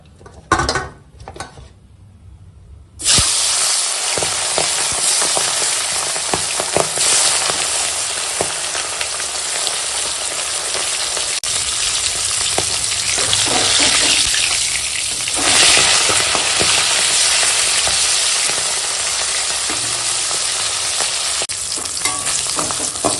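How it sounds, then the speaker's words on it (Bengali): Fish rubbed with turmeric sizzles steadily and loudly in hot oil, a dense continuous frying hiss that starts abruptly after a few quiet knocks and carries on with occasional utensil clinks and stirring. "মাছ ভেজে নেবো"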